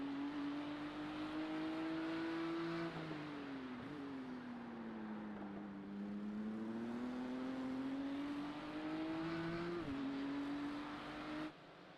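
Race cars lap Imola in a sim racing game, a single steady engine whine rising and falling with shifts and cornering, faint and continuous throughout.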